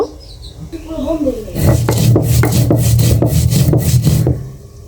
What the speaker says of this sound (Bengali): পাটায় গরম মশলাটা দিয়ে দিচ্ছি এখন আমি বেটে নেব